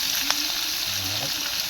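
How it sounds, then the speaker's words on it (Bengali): Leafy greens fry in hot oil with chili and garlic in a home kitchen, a steady bright sizzle with a couple of soft stirring knocks, close and continuous. "অনেকদিন পর শাক ভাজতেছ না?"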